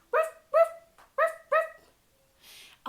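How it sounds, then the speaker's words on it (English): A dog barks in a grassy field: four loud, close barks in a quick run, a short pause, then a hissing rush and the start of another bark. "and starts barking."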